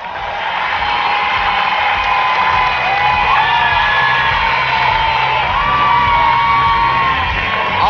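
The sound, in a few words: studio audience clapping and cheering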